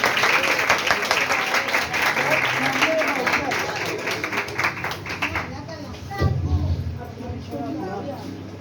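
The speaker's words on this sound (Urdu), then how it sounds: "سب ذرا ایک دفعہ اپنے لیے تالیاں بجائیں۔" A church congregation claps together during a sermon, dense loud applause for about six seconds that thins out and fades, with a few scattered claps and voices near the end.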